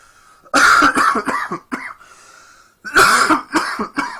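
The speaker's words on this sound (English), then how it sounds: "having a cough when you're trying to make a video" A close, loud fit of harsh coughing in two bursts, several rapid coughs each, separated by a short quiet pause.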